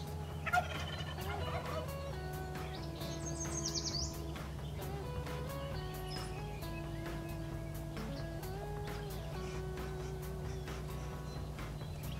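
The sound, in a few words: wild turkey toms gobbling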